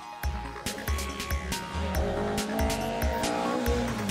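A 1972 Mark I Ford Escort race car at a motorsport festival revs hard through a series of rapid gear changes, its engine rising and dropping in quick bursts with tire squeal, fairly close.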